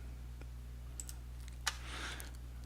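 A handful of faint, sparse clicks from typing on a computer keyboard, spaced irregularly over a steady low hum with no voices.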